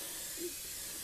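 An airbrush lays color coats on a Firebird model body with a soft, steady, faint hiss and a tiny bump in the middle.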